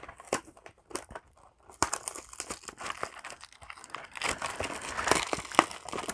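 Cardboard and plastic packaging of a Yu-Gi-Oh! display box being cut open up close, a run of crinkling, tearing and crunching rustles in uneven bursts, fairly quiet with no talking.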